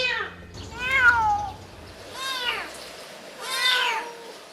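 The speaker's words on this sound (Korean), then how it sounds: "웅벽에서 들려오는 고양이 울음소리의 주인이 정말 이 녀석인 걸까요?" A kitten trapped in a ten-metre drainage channel meows three times, each cry a drawn-out, falling wail spaced about a second apart, moderately close with an echoey, hollow quality and faint background hiss.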